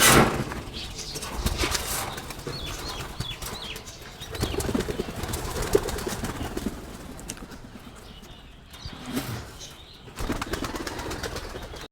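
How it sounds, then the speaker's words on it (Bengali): Pigeons cooing nearby with bursts of wing flapping and fluttering, the activity rising and falling in waves. "এ দেখতে পাচ্ছেন আমার কবুতরগুলো ওটা উড়াই আয়"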